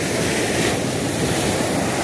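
Waves washing against a small wooden bangka on open water, a steady broadband roar of surf with wind buffeting the microphone, continuous and close throughout.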